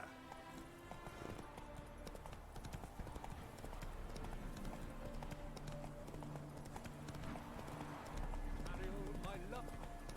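Roach, a horse in The Witcher 3 video game, clip-clops along at a steady trotting rhythm beneath game music, with someone talking over the hoofbeats.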